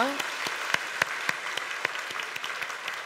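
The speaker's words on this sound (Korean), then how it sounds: "우리 박수로 축하해 주시기 바랍니다" A church congregation applauds after an infant baptism with a lively stretch of clapping and distinct sharper claps standing out. A voice is briefly audible at the start.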